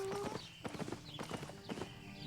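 Horse hooves clip-clop in a quick, even rhythm from a mount in the online fantasy game Albion Online, close and clear over a faint background.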